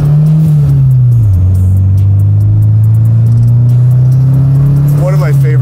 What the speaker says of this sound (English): One of my favorite sounds a car makes, too, is that that blow-off